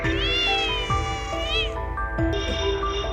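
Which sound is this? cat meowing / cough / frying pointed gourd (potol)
cat meowing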